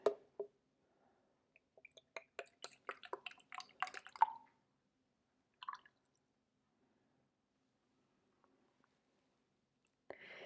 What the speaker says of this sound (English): So let's try and pour it into a bottle.